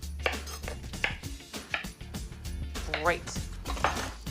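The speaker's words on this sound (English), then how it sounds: "Then we're gonna cut them into 3/4 inch slices." Knife slicing cucumber into thick 3/4-inch rounds on a cutting board, a series of soft, evenly spaced chopping taps under a voice speaking throughout.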